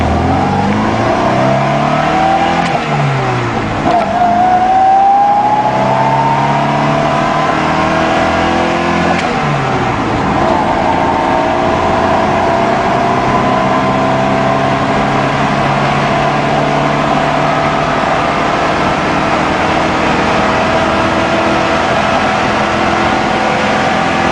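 A Russian car with a 1.5-litre, 78-horsepower engine, heard loud from inside the cabin as it accelerates. The engine note rises and falls through several gear changes, then settles into a steady drone.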